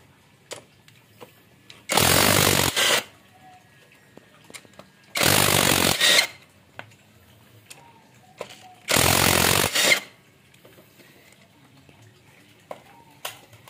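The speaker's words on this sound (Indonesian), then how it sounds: "Ini saya menggunakan impact saja karena mudah" An impact wrench with a 12 mm socket removes cylinder head bolts on a Yamaha Mio J scooter, firing three loud, close bursts of about a second each, separated by quiet pauses with faint handling noise.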